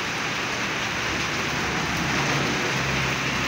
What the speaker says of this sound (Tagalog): Nag-start po yung ulan mag-aalas 9 po